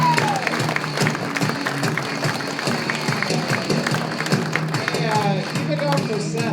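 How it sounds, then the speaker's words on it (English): Audience at Morty's Comedy Joint clapping between comics, steady mid-level applause running throughout with dense crowd texture and some voices mixed in. "Clap it up"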